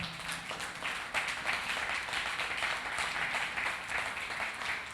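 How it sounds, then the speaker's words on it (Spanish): A church congregation claps together in a steady, fairly even burst of applause, moderately close and continuing throughout, with no clear speech on top. "¿Habrá en esta casa alguien que le dé un aplauso al Señor?"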